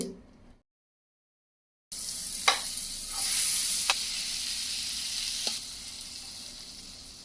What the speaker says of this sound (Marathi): गॅसवरती पॅन तापत ठेवलेला आहे यामध्ये आपल्याला हा संपूर्ण अमोल बटरचा क्यूब टाकायचा आहे